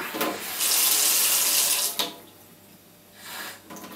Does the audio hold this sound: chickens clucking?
no